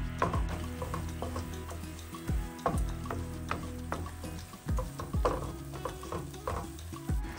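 Tomato paste and onions are being stir-fried in a pan: a steady sizzle runs underneath while a utensil scrapes and knocks against the pan in irregular strokes, close and fairly loud, with no talking.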